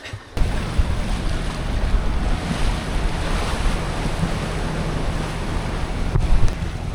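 Strong wind and breaking waves rush steadily around a sailboat out at sea in squally conditions, a constant loud roar with buffeting wind noise on the microphone and no speech.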